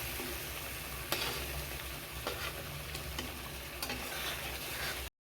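Boiled shrimp being stirred and heated in a pan give a steady, close sizzle with occasional sharp clicks of a utensil against the pan, with no voices.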